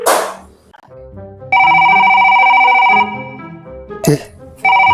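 A telephone rings with a bright electronic ringtone in two bursts, the first long and loud, the second starting near the end, with voices and brief bursts of chatter between them in a Sundanese comedy sketch.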